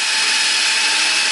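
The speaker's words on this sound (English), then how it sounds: "what we're going to do first is we're going to drill a hole through the trigger" A power drill bores a hole through an EVA foam prop trigger, giving a steady high-pitched whine up close for a second or so.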